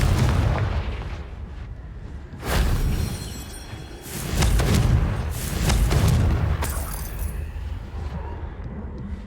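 Confringo blasting spells cast in the video game Hogwarts Legacy, several heavy booming bursts in a row, each swelling and fading into the next, loud and close.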